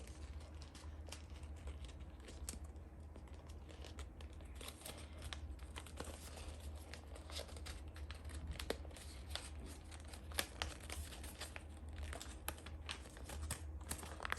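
Paper is folded and creased into an origami bat. Soft, faint crinkles and sharp little rustles come up close and intermittently against a quiet background, with no talking.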